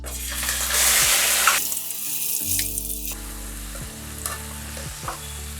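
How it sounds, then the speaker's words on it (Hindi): Crushed masala dropped into very hot oil for egg curry gives a loud, close burst of hissing sizzle that eases into steady frying, with scattered clinks and scrapes of a spoon stirring the pan. "और 10 सेकंड के बाद आप अपना ये कुटा हुआ मसाला डालिए। ठीक है, और मसाला दूर की तरफ डालना। ठीक है, तेल बहुत गर्म है।"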